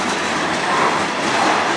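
A CN freight train passes close by in a loud, steady, broadband rumble of wheels and rolling cars, with no voices.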